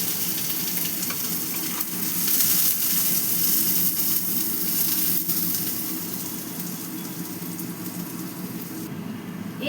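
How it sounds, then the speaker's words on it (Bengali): Chopped onion hits hot oil in a pan for a green banana curry and sizzles steadily throughout, loud and close, swelling briefly before settling. There is no talk. "এতে আমি এবার কিছু কুচনো পেঁয়াজ দিয়ে দিচ্ছি"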